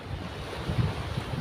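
Sea waves and wind along a shoreline where the current is strong, a steady rushing surf with gusty wind buffeting the microphone and no voices.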